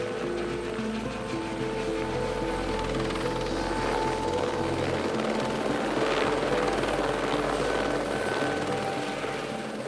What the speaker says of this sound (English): Pilot Mike Watson returns from dropping the first team.